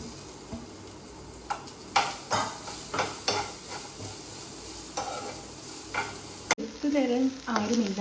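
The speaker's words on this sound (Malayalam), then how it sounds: "തേങ്ങാക്കൊത്ത് നല്ലപോലെ നെയ്യിൽ ഇങ്ങനെ വറുത്തെടുക്കുന്നുണ്ട്" Coconut pieces roasting in ghee for laddu, a soft constant sizzle punctuated by repeated stirring scrapes and clacks of a spoon against the pan, close up, with a louder sizzle near the end.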